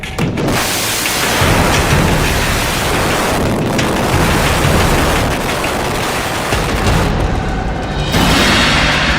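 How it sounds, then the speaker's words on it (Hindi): Twin towers collapse in a controlled demolition, producing a sustained, thunderous roar of rumbling debris. It holds at high volume for several seconds and swells again near the end, with no voices heard. "सात सेकंड में धड़ाम हुआ ट्विन टावर।"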